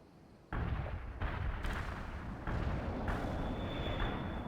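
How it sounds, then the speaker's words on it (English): Heavy artillery barrage in the war strategy game World in Conflict, a loud continuous rumble of overlapping blasts with fresh booming impacts arriving every second or so, close and dense, with no voices. "Heavy artillery barrage inbound."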